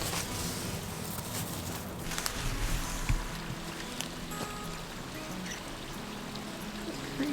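A creek runs below a snowy homestead raspberry patch, its water rushing in a steady, even wash that stays in the background for the whole stretch with no voices.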